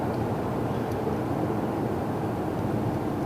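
A BMW dual-fuel hydrogen car accelerating on petrol at the Frankfurt motor show gives a steady, soft, low engine hum. The broadband rumble stays continuous and even throughout, with no talking.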